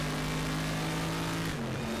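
Loud, steady engine drone of a Group 5 race car at speed in the Raceroom racing game on the Macau circuit, holding a constant pitch before a brief dip near the end, with no talking.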